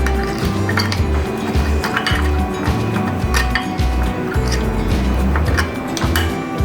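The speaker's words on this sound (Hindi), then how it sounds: "ये सब चीज़ें मिक्स करने के बाद हम अच्छी तरह से इसका पेस्ट बना लेंगे।" Turmeric, salt and spices are mixed into a paste for chicken achar gosht, with rapid clinking and scraping of a utensil against a dish in a steady, busy rhythm, close and clear.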